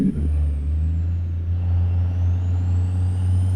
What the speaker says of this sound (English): go ahead and turn that Jake brake up a little bit.